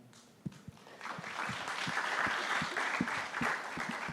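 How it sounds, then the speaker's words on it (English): An audience at an innovation and commercialization panel event applauds the panelists: moderately loud, continuous clapping that builds and holds, with distinct individual claps standing out close by. "And please clap for the panelists."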